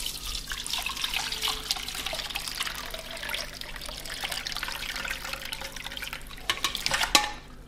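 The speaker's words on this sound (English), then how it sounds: "we are going to run this through a sieve to get all these dandelion flowers out of here" Dandelion flower tea poured through a sieve, a continuous splashing trickle of liquid with some clinks toward the end.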